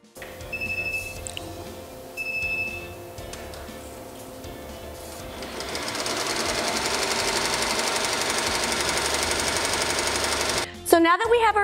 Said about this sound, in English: So now we're going to hit start, and that's going to be doing our placement stitch.